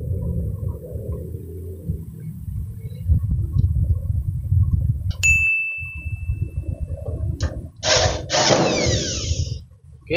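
A steel office desk is bolted together with a rumbling power tool, broken by a sharp ringing metal clang midway and a burst of bright rattling and grinding toward the end.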